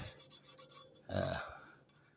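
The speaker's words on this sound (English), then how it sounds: "I'm going to take off this safety sticker right here," Safety sticker peeled off a lawn mower, a short dry rasp of tearing adhesive that swells briefly and fades, close by, after a stretch of quieter rubbing.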